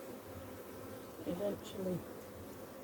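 Honey bees buzz at an open hive, a dense droning swarm that swells louder for a moment, with a voice speaking briefly over it.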